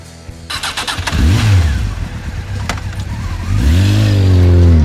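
An animated police motorbike cranks with a sputtering starter, catches, then revs in two rising engine sweeps as it pulls away, loud and close throughout.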